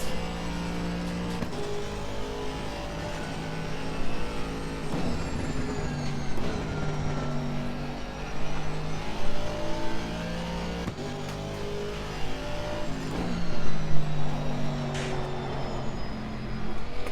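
A race car engine in Assetto Corsa Competizione runs near full throttle, a loud, continuous, harmonic roar that climbs and shifts through gears, with brief dips between shifts and no talking.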